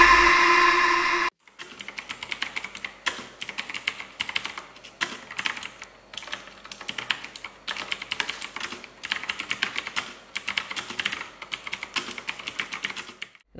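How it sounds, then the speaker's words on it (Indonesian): A Sades Khanda mechanical keyboard with Otemu Blue switches is typed on steadily after a brief opening, producing crisp, rapid clicky keystrokes in uneven bursts, close and alone. "kalau kalian penasaran dengan suara Otemu Blue Switch kayak gimana, ini dia footage-nya"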